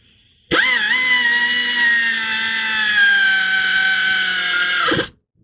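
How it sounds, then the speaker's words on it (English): An air ratchet runs down 12 mm and 14 mm bolts while a crank pulley and serpentine belt are installed on a 2008 Acura MDX. It gives one steady, loud, high pneumatic whine for about four and a half seconds, then stops abruptly. "I'm going to run those down with the air ratchet."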